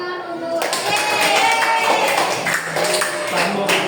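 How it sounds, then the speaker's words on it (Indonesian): Classmates clap together in a math classroom after a teacher's cue, a dense burst of hand claps lasting a few seconds with some voices mixed in. "beri tepuk tangan untuk"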